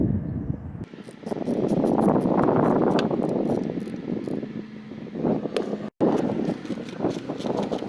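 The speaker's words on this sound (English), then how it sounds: "it's a little bit windy and cool outside." Gusty wind buffets a microphone outdoors on a cool day beside a truck under repair, a steady broadband rumble swelling and easing with one brief dropout near the end.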